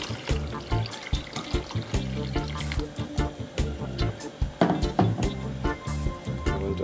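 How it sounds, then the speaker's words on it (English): Water poured into a regular cooking pot on a stove while making Jamaican rice and peas, with splashing and clinking bursts close by and no talking. "And a little bit more water."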